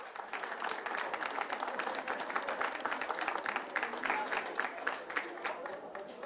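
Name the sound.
audience applause at esports event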